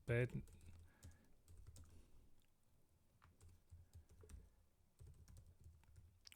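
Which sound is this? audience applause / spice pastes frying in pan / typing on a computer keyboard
typing on a computer keyboard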